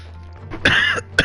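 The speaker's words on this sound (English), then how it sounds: "I'm sorry, I'm coughing a lot." Two short, harsh coughs close to the microphone, the second briefer than the first.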